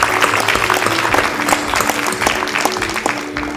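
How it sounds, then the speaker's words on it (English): An audience applauds at a journalism awards ceremony, the Fetisov Journalism Awards, with loud, dense clapping from a hall full of people throughout, while a soft steady tone and hum carry underneath and no one speaks. "a round of applause."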